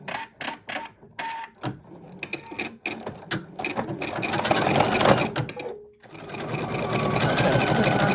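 An embroidery machine stitching an African-style patch, its needle hammering in quick, uneven bursts that start and stop, then settle into a steady, loud mechanical chatter with no one speaking.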